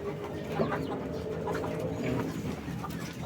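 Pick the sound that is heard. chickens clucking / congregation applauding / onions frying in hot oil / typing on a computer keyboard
chickens clucking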